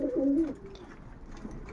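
A racing pigeon coos close by, a soft low throaty phrase at the start and a fainter coo near the end, over quiet background murmur.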